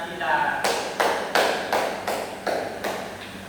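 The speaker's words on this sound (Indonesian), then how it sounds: "kita kasih aplaus dulu kepada Sila" A classroom audience applauds a student in a series of roughly seven distinct, evenly spaced claps or taps, moderately loud and close, with no talk over them.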